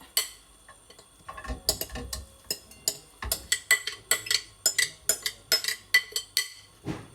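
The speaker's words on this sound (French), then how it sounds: "tu vas tout claquer dans ta poêle" Burger filling ingredients clatter in a frying pan with a string of quick, close metallic taps and scrapes that grow busier and more rhythmic toward the end.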